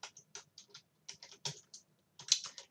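Quick clusters of keystrokes on a computer keyboard while entering an Excel formula, crisp clicks close to the microphone in short irregular bursts separated by brief pauses, with no talking.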